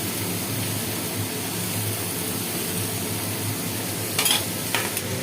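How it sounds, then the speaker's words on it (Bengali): Potatoes fry in hot oil for paneer navaratan, a steady, close sizzle and crackle that goes on without a break, with a couple of brief clinks near the end and no talking. "ভালো করে লাল করে আলুগুলো ভেজে নেব।"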